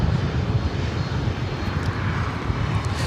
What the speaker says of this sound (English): That is United Airlines flight 2347 heading to Chicago O'Hare in a 737 MAX 9